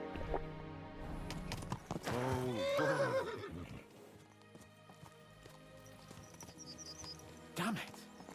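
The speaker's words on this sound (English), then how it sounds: "Let's really spur these horses on, eh?" Horses neigh loudly in the medieval video game Kingdom Come: Deliverance 2, one long whinny dominating the middle of the clip while hooves clip-clop beneath, then a shorter neigh near the end.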